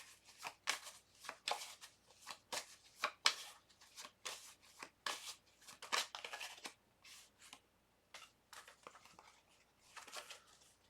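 Tarot cards being shuffled and drawn during a reading, a steady run of quiet, crisp riffling and slapping card sounds in irregular bursts, close by, with no talking over them.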